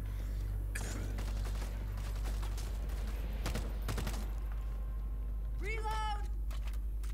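A gun in a zombie video game fires in several sharp bursts against a loud, constant game background, and someone talks over the shots.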